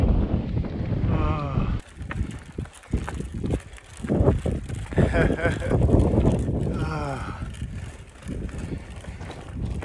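Wind rushes steadily across the microphone on a bikepacking trail on the Grand Staircase Loop in Utah, loud and continuous, with someone talking over the buffeting gusts.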